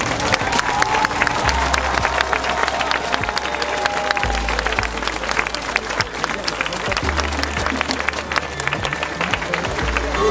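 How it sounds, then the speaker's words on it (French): A crowd at a medieval reenactment by a fortress bursts into sustained applause, dense clapping mixed with some cheering that carries on for several seconds under a low background hum. "Tonnerre d'applaudissements, s'il vous plaît."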